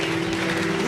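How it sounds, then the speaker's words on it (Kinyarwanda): Applause from a worship concert audience, a dense, steady wash of clapping throughout with a sustained tonal hum beneath it, loud and continuous for the full second. "Komera Imana amashyi menshi cyane."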